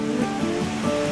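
A waterfall rushes in a steady broadband roar, close and continuous for about a second with no voices.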